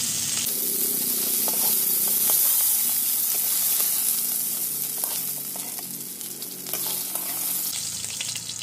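Silver carp pieces frying in hot oil: a steady, loud broadband sizzle with crackling spits throughout, and occasional light scrapes and knocks from handling the fish, no voices.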